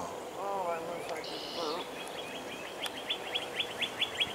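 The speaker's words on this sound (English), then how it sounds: "Listen to that bird." Birds singing outdoors at sunrise, faint and somewhat distant: a few varied chirps and whistles, then a quick series of repeated high tweets toward the end, with soft background noise.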